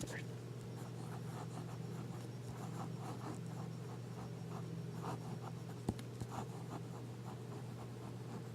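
A Jinhao #5 fountain pen nib laid down wet with olivine ink scratches softly across paper in steady, close strokes, quiet scribbling continuing throughout.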